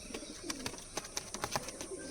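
Teddy pigeons coo softly nearby in short repeated murmurs amid faint background noise, with no talk.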